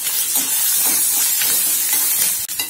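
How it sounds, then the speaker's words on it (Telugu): Chopped green chillies, ginger and curry leaves frying in hot oil in a pan, a steady loud sizzle and hiss with faint stirring scrapes throughout, and no voice. "పచ్చిమిరపకాయల్ని వేపుకోవాలి."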